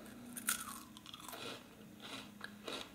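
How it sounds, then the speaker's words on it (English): Someone bites into crunchy Spanish puff pastry heart candies with a sugary center, giving crisp, brittle crunches and chewing, close to the mic and fairly quiet, with no talking. "And they are so crunchy."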